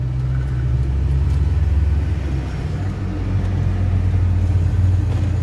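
Race cars practicing at the Interlagos circuit in São Paulo produce a steady, distant engine rumble, heard from outside the track wall with no talking.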